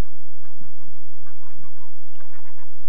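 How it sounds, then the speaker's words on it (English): Noisy herring gull rookery on a lake island near a forest, a dense overlapping chatter of squawks and honking calls at a loud, steady level with no voices. "the noisy gulls set up a constant chatter that filled the otherwise silent forest"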